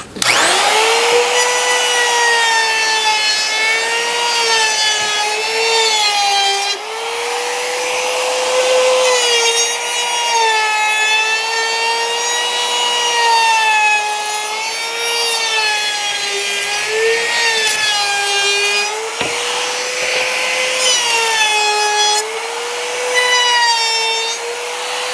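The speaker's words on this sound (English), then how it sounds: "I'm going to route the edges all around with a 3/8 inch round over bit." A router with a 3/8 inch round-over bit cutting along the edges of a wooden wheel hoe handle: a loud, steady high-pitched whine that rises and dips slightly as the cut load changes, with no talking.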